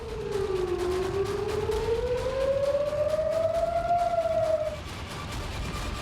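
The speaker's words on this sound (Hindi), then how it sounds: "यहां पर भी जंगी सायरन सुनाई दे रहे हैं।" A long wailing air raid siren in Israel rises slowly and sweeps upward, holding a steady mournful tone over a constant noisy background before fading out.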